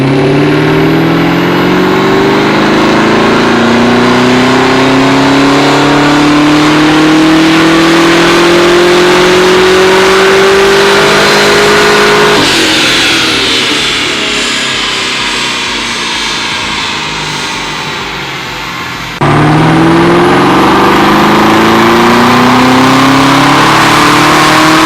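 A stock car engine revs hard through acceleration pulls, loud and close, its pitch climbing steadily through each gear before dropping at the shifts, with a brief lull in between pulls.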